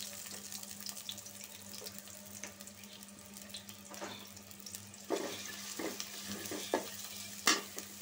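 Chopped onion frying in oil in a pot for a thin chicken curry, a faint steady sizzle with a few soft clinks and scrapes, growing slightly busier toward the end.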